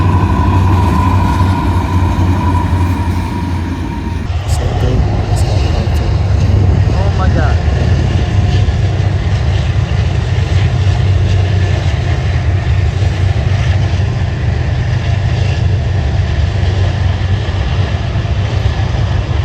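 A train passes on a foggy morning, its deep engine rumble loud and steady throughout with a sharp transient midway, while a person speaks briefly over the noise.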